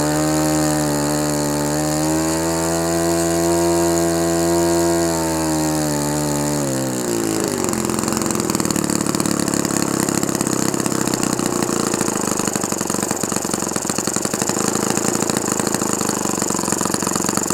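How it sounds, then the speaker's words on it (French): An OS FS 52 Surpass four-stroke model airplane engine with an 11 x 7 propeller runs at a steady high rev for several seconds, then drops sharply to a rougher idle during break-in, loud and close with no talking. "Après on va enrichir le mélange et après on va descendre au ralenti pour le laisser se refroidir un petit peu."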